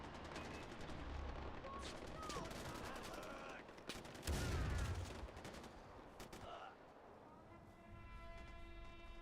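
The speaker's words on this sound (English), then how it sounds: "it sounds like I'm getting sniped at" Gunfire in the Far Cry 4 video game, rapid bursts of shots and sharp cracks over a dense, noisy game soundscape, with a heavier blast in the middle.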